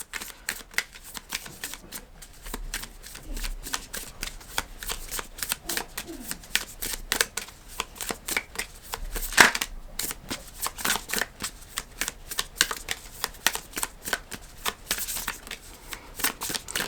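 A deck of tarot cards is shuffled by hand in rapid, repeated riffling bursts, close and fairly quiet, continuing steadily for a long stretch without speech.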